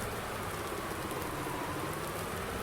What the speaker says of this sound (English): Probably not a good idea to be out in the rain